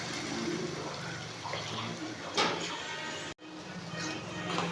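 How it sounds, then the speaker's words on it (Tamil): Tamarind water poured into a pan of sautéed curry masala, heard as a loud continuous watery rush with a brief sizzling swell, a short cutoff, then the steady pouring noise resuming up close. "புளி ஊற்றியாச்சுங்க"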